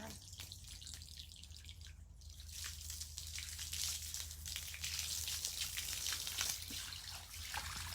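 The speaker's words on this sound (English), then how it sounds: "I'm gonna rinse it first before I even do that." Running tap water rinses a dirty item under a sink, a steady close hiss and splatter that grows slightly denser partway through, with no talking.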